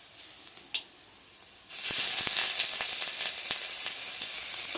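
Ground onion paste and dried red chilli hit hot oil, producing a sudden loud burst of sizzling after a quiet start with a couple of soft clicks, then a steady crackle with small pops and utensil taps.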